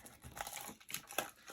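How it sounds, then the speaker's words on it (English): The plastic packaging of a Keychron V1 Max keyboard crinkles as it is opened, giving quiet, close, irregular bursts of crackle over about a second and a half, with no talking. "Let's open up this packaging."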